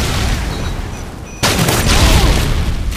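A flash grenade detonates in Modern Warfare 2 Domination: one sudden loud bang halfway through, followed by a sustained ringing wash of noise and background combat.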